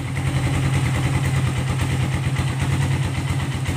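A Suzuki Satria FU 150 carbureted motorcycle idles evenly after a flooded-fuel fault has been fixed, a loud, steady, close-up putter with no talking.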